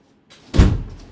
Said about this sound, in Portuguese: Bateu na porta.